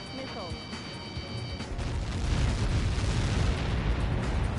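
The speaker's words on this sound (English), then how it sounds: "How many got caught in that explosion?" Huge explosion in the Ace Combat 7 flight combat game, a sustained heavy roaring rumble that swells and stays loud throughout, with faint tonal game sounds fading in the first moments.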